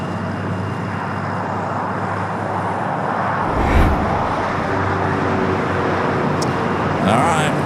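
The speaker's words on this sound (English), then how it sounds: "Witnessing history here at LAX for the very first time at Virgin, bringing in the A330neo, the 900, coming up from London Heathrow, flight 141." A Virgin Atlantic A330neo airliner arrives at LAX, a broad steady jet roar building gradually with a deeper rumble near the middle, heard at a distance amid airport and road traffic noise.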